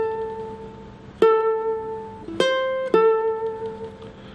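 Three plucked ukulele notes ring out one after another, each sustaining with a slight vibrato waver, forming a short bluesy phrase.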